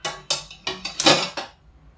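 An iron kadai set on a gas stove for frying puris in ghee gives a quick string of sharp, close metallic clanks and rattles, about half a dozen hits, fading out afterward.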